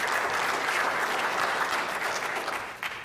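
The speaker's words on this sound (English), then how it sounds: "give a round of applause to all the people who contributed in the breakout session" An audience claps for the contributors to a breakout session at a conference, a short burst of steady, moderately loud applause that tapers off slightly at the end.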